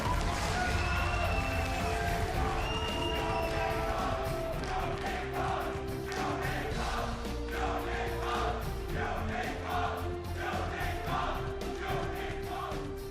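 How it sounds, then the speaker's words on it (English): An esports arena crowd at a League of Legends regional qualifier final roars loudly and steadily after a game, a dense, sustained wall of cheering and chanting with music-like tones running through it. "That's the loudest I've heard the crowd all day."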